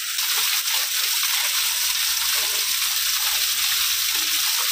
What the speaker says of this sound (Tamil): இதுதாங்க நம்ம அருவி